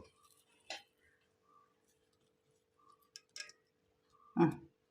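Parboiled rice for beef biryani being scooped for dum, a few sparse metallic clinks of a utensil against a pot, close but faint with long quiet gaps.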